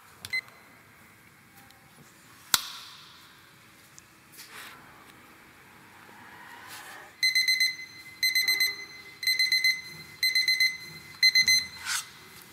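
A kitchen timer goes off after pressure cooking, sounding five loud bursts of rapid electronic beeping in a steady on-off rhythm, preceded by quiet kitchen handling noises and a sharp knock.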